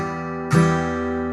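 Guitar chord from a song with one sharp downstroke over a still-ringing chord, then a long even sustain, close and clear, with no voices.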